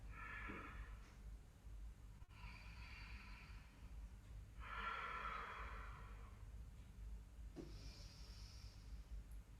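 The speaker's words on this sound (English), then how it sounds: "Ujjayi breath." Ujjayi breathing during a yoga practice: slow, hissing breaths through a narrowed throat, a few long inhales and exhales in steady succession, close and quiet, with no talking.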